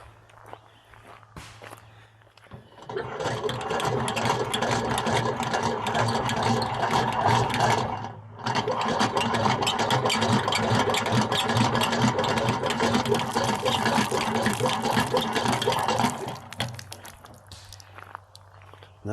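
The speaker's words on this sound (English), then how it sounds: "Not your typical pump." A campground water pump runs steadily at a Wisconsin campground, giving a loud, continuous rhythmic mechanical churn up close. It cuts out briefly partway through, then resumes for a long stretch before stopping, with no talking.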